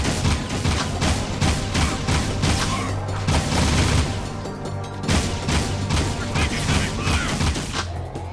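Rapid gunfire rattles through a busy Jak II fight against Samos, loud, dense bursts of shots layered over game music and effects.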